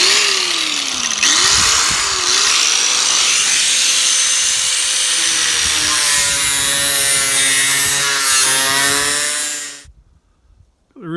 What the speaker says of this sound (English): thin cutter on the grinder